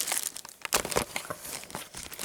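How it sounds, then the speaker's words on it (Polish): A plastic shopping bag with a tiger print crinkles and rustles in close, irregular bursts as items are pulled out of it, with no talking. "dzisiaj będziemy sobie wyjmowali z tej reklamówki z tygrysem"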